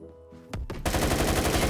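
An AK12 rifle in Roblox Phantom Forces rattles off a rapid, loud burst of automatic fire after a couple of sharp lead-in shots, close and continuous with no talking.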